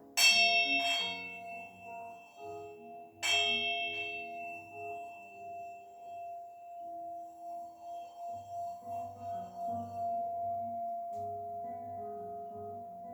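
A bell struck during a chair yoga session rings out twice, a few seconds apart. Each bright strike is followed by a long, slowly fading hum with a gentle pulsing wobble, heard alone in a quiet room.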